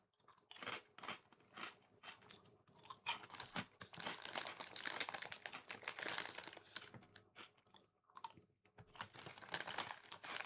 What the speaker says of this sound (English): This entire stream is just going to be crunch, crunch, crunch, me chewing, taking a sip of Dr. Pepper.